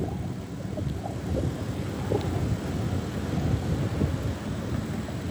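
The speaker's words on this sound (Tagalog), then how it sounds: "Hindi maaraw, mahangin-hangin lang ng konti." Light wind blows steadily outdoors on a mild, overcast day, a continuous low rumbling buffet across the microphone with no speech over it.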